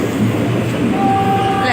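The steady rumble and rattle of a Thai train carriage heard from a window seat inside, with a continuous low roar of movement and a faint high squeal from the wheels or rails.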